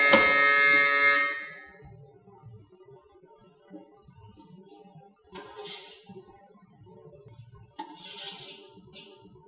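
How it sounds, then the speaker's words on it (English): A Rational combi oven's buzzer sounds when a batch of chocolate pastries is done: a loud, tonal electronic beep at the start, then quieter kitchen clatter and a few softer noises after it. "here we got the buzzer that our products are ready"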